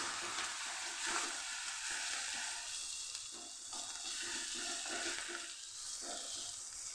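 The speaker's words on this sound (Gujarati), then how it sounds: "જે આપણે લસણ દરદરું ખાંડીને લીધેલું મરચાં, લસણ ને આદું એને ઉમેરી દઈશું આપણે આમાં। એને સાતળી લઈશું આપણે।" Coarsely pounded garlic, chili and ginger are sautéing in a pan for a garlic curry, giving a soft, continuous sizzle with faint stirring scrapes, quiet and close with no voices.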